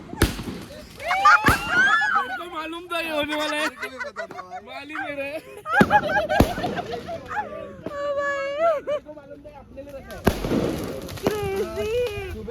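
Diwali firecrackers go off in a few sharp, loud bangs, spread among people talking and a whining, dog-like sound that fills much of the time.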